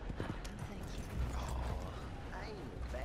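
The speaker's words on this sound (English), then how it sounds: "Oh, that's a horse." Horse hooves clip-clop steadily in the video game Red Dead Redemption 2, a rhythmic clatter of a horse at walking pace with creaking tack and a brief whinny, while someone talks over it.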